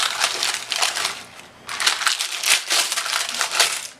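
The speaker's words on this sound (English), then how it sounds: "now we are going to pull the parchment off the bottom" Parchment paper peeled off the bottom of a freshly baked no-knead crusty loaf, making loud close crinkling and tearing in several bursts with a short pause midway.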